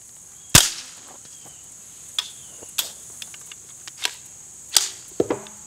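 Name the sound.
22 shots through CGS Group Hydra suppressor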